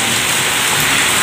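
Heavy rain pours down in a dense, unbroken hiss, loud and close, with no voices or other sounds over it.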